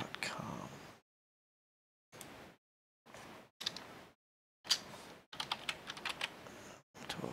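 Bursts of typing on a computer keyboard as an email address is entered, close and clear, with short pauses between runs of keystrokes; a voice speaks briefly at the start.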